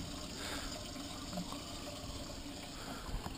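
Water splashes and spills over the edge of a funnel as a continuous rushing, gurgling wash with no break.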